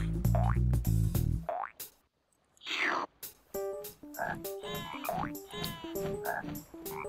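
A frog croaks in the Frogger video game. A loud burst and a brief gap come first, then a rapid run of bouncy, springy croak effects repeating steadily, close and prominent.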